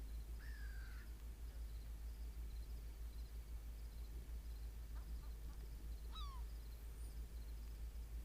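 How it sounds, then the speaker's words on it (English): Seagulls calling in the Second Life virtual world near a coastline of jagged rocks, a few short squawks and cries scattered over a faint steady low hum, distant and quiet. "Seagulls, majestic creatures."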